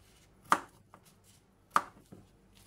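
A knife slices through zucchini on a cutting board while preparing Mexican rice, producing two crisp, well-spaced chops, each followed by a faint softer tap, close and quiet.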